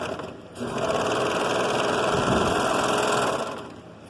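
A sewing machine with a cutter stitches a seam on children's overalls, a steady, close mechanical whir running for about three seconds with a softer start and taper.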